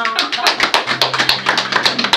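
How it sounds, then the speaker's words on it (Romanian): Audience applause for Oxana at a surprise village celebration in Chircăiești, a dense crowd clapping with sharp, fairly loud hand claps; a low tone hums underneath. "Aplauze pentru Oxana!"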